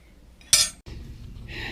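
Old metal spoons dug from the ground clink as they are handled, giving one bright, sharp metallic clank followed by quieter scraping and rattling, close and alone.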